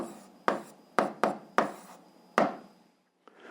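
A pen taps and scratches on paper while an algebra solution is written down, six sharp strokes in an uneven rhythm, close and quiet, with a short silence near the end.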